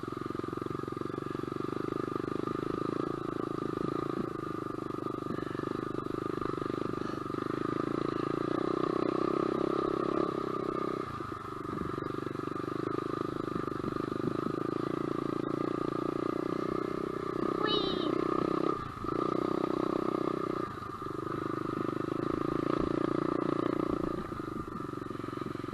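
An SSR125 dirt bike engine drones steadily during a ride, a continuous mid-pitched motor hum with a few brief dips as the throttle eases off, close and fairly loud.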